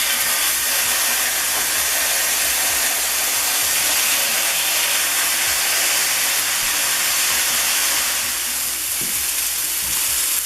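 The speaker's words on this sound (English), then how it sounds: "Our steaks have been sizzling for just about 2 minutes." Steaks sizzling in a hot aluminum pan, a loud, steady, dense hiss of frying that runs unbroken throughout at close range.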